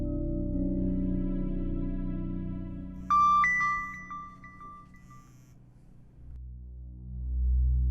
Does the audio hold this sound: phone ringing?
yes